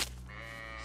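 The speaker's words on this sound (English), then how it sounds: "There's loads of sheep and goats." A single short sheep bleat from the DayZ survival game, quiet and wavering, lasting under a second.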